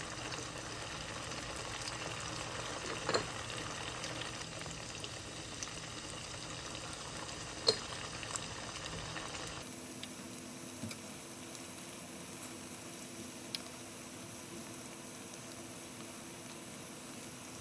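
Churros frying in hot oil in a pan, four pieces at once, a steady soft sizzle and bubbling throughout that drops a little quieter partway, with occasional small ticks and pops and no talking.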